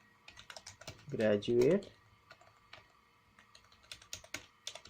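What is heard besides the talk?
typing on a computer keyboard in MS Word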